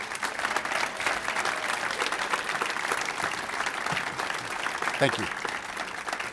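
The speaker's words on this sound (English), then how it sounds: "So please join me with one final round of applause for all of the employees that received service awards" An audience at an employee service awards ceremony applauds steadily for several seconds, a dense, continuous round of clapping with a voice briefly speaking over it near the end.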